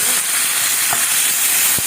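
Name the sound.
garlic, chilli and tomato frying in vegetable oil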